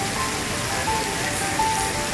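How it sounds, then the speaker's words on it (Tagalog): Rain falls steadily at the National Stadium in Singapore, a dense, even hiss of drops on surfaces filling the whole stretch without pause. "So naisipan kong i-share sa inyo ang ulan."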